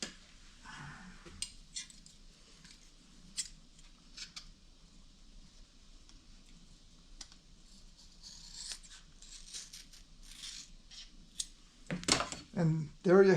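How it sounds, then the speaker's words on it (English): Scissors snip through foam from a motorcycle air filter during a restoration, faint scattered cuts and rustles with quiet gaps, ending in louder handling noises and a brief voice. "we'll just cut it with a pair of scissors."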